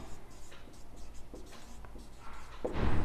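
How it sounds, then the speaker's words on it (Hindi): Pen or pencil writing on paper during a maths lesson, soft scratchy strokes close by, with faint rustling at the end. "तो अब लिखेंगे"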